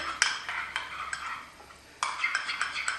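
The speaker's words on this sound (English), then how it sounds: "We'll just take and stir this all together." A spoon stirs a burger topping seasoned with cayenne pepper in a bowl, giving quiet scraping strokes and light clinks in two short bursts with a pause between them.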